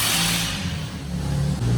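A Honda Jazz GK5 with a 2-inch catless header revs on a dyno, its mid-pitched engine droning loudly and steadily with slight rises in pitch, close and alone.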